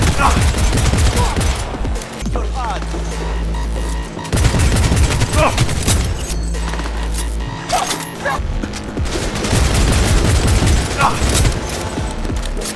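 Loud bursts of rapid automatic gunfire ring out in the video game Cyberpunk 2077 during a fight with a horde of enemies. Long stretches of shooting are broken by short pauses, with sharp shot impacts throughout.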